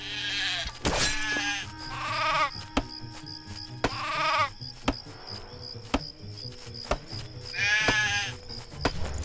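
Several sheep bleat in the Craft The World video game, three or four wavering cries spaced a couple of seconds apart, over soft game ambience with scattered clicks and taps.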